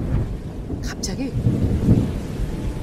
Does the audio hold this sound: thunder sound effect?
yes